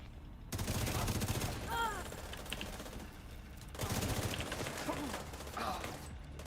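Rapid bursts of gunfire in a player-versus-environment video game, two loud volleys a few seconds apart with quieter shots between, mixed with in-game voices and radio chatter.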